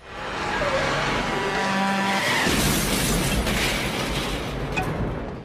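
A head-on truck collision in a horror film scene: a loud engine roar and tire screech build into a heavy crash with breaking debris, followed by lingering rumbling noise.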